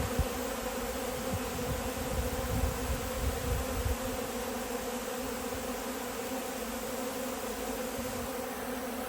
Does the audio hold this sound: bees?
yes